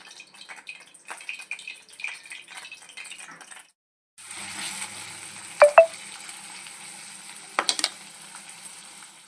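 Dhania, garam masala, chili powder and ginger-garlic paste hit hot oil for chole masala, giving a broad, steady sizzle after a brief pause, with a few sharp clinks of a utensil against the pan.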